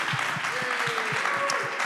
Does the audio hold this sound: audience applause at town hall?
yes